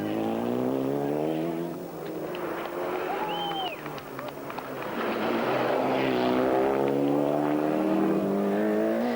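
A Ford Escort Cosworth rally car at the 1995 Rally of Portugal drives past with a loud, rising and falling engine drone, revving hard as it nears and then pulling away.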